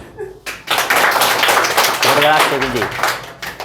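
A classroom of students claps for the winner of a class 11 maths test, a burst of dense, close clapping that starts abruptly and continues as a voice talks over it.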